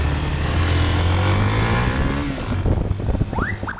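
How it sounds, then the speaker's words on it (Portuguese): A motorcycle carrying two riders roars through a corner at high speed, its engine loud and close, with the engine note swelling and shifting as it passes and pulls away. "a equipe foi vista dois indivíduos na moto dobrar a esquina em alta velocidade"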